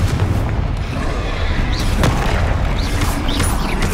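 In the Hogwarts Legacy video game, a Confringo fire blast spell booms loudly over dense battle noise and rumble, followed by a few sharp crackling bursts.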